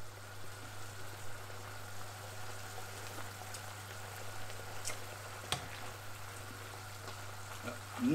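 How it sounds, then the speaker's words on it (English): Mince beef and onion pie filling simmers in a pan, giving a soft, steady bubbling and faint sizzle with a constant low hum beneath, a sharp clink partway through and a brief knock at the end. "And we're going to simmer that down now."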